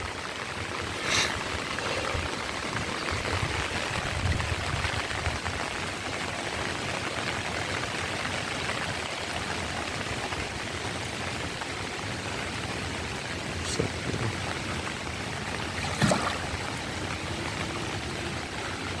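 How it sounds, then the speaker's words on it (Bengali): Steady rain falls over paddy fields, a dense, even hiss of drops on surfaces that carries on for the whole stretch, with a few sharper drips standing out near the end. "বৃষ্টি হয়তো শেষের দিকে বৃষ্টি ই হয়ে আসছে আর কি বিন্দুগুলো ছোট হয়ে আসছে"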